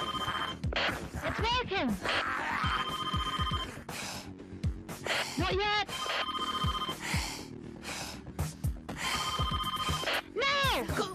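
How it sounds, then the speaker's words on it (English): A telephone rings in repeated bursts with pauses between, while excited voices talk and shout over it. "It's ringing, it's ringing, it's ringing."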